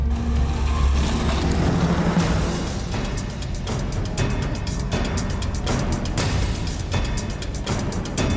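A car is driven off the road into the bushes, a close, continuous engine and road rumble with recurring brushy swishes layered over it and no voices.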